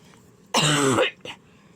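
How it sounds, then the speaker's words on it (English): A single loud, harsh cough bursts out, followed moments later by a short, softer second cough, against a quiet background. "Excuse me, had a cough."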